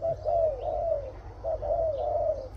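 A dove coos in a repeated series of soft, rolling calls over a low background hum.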